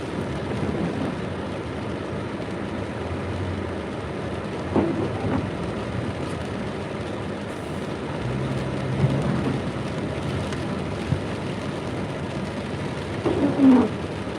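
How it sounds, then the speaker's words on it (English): Steady rain falls outside with a constant soft hiss, a few faint thuds and rustles mixed in, and no one talking. "it's pretty rainy out"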